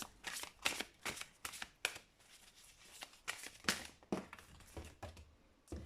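Tarot cards are shuffled close up in a quiet room: a series of short, crisp riffles and slaps with brief pauses between them.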